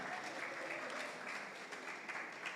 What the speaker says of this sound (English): yeah, clap me for that